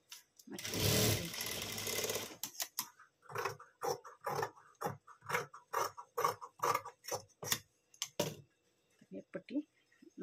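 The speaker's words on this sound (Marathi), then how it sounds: "खूप सोप्या पद्धतीने शिलाई करून घ्यायची आहे याला." A sewing machine stitches a blouse in a run of rapid, evenly spaced bursts, close and clear, after a louder rush of rustling noise at the start, with quiet pauses between the stitching runs.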